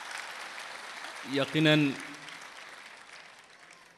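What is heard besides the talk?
audience applause at a mushaira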